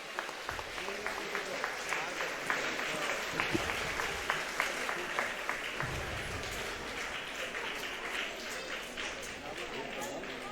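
A crowd at a school Republic Day celebration gives a sustained round of applause for students after their cultural performance, with sharper individual claps standing out from the even wash of clapping.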